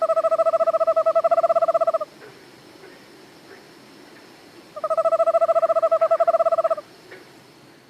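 Owl song from a played recording, heard in Maine: two loud, near bursts of rapid rhythmic hooting, each about two seconds long, separated by a quiet gap.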